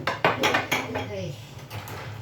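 Dishes, pots and cutlery clatter and clink at a kitchen sink during washing, a quick run of close, loud knocks and scrapes that settles into a softer rattle, with a voice speaking briefly over it.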